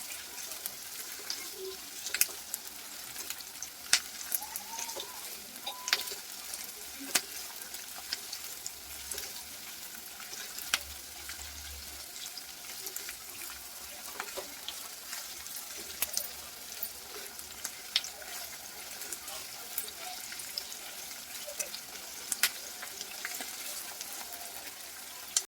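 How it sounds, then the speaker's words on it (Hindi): Vegetables for a homemade vegetable manchurian sizzle steadily in a pan over high heat, a continuous faint frying hiss with small crackles throughout, with no talking. "तेज आंच में से थोड़ा पका लीजिए।"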